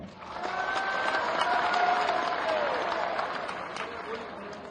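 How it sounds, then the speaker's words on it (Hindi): A seated audience at a panchayat secretaries' conference in Bhopal claps in a sustained, dense wave of applause that swells, holds and slowly fades, with crowd noise mixed in. "आपने ताली इतनी बजा दी थी, अगली बार के लिए भी रखना पड़ेगा।"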